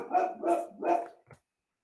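A dog barks three times in steady succession, close and fairly loud, followed by a short yip before quiet, heard in a home during an online class.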